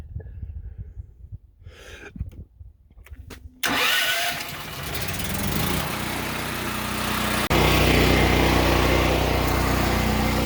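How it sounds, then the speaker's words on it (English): Generator at an off-grid home with just under 100 hours of run time cranks over briefly, then catches and settles into a loud, steady running drone close by. "I know the generator is running because these are lit outlets"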